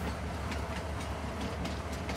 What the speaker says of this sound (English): You can see here that actually the train comes right now.